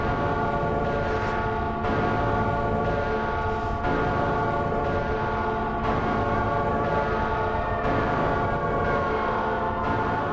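A subway train rumbles by in Silent Hill 3, loud and continuous, a droning roar with sustained tonal whines like a horn or siren layered over the heavy rolling noise, pulsing slightly every couple of seconds.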